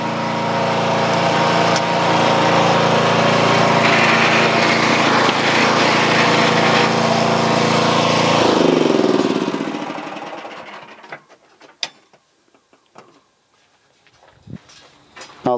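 PVC pipe cutting and beveling machine running with a loud, steady motorized drone and grinding rattle for about nine seconds, then winding down as it shuts off, leaving sparse clicks and knocks.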